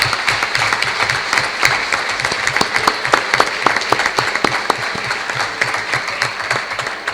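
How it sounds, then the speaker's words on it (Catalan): Sustained applause from an audience at a senior university closing ceremony in Alcoi, many hands clapping steadily and densely throughout, fairly loud and close, with no talk over it. "Jo crec que un aplaudiment a lo que han fet"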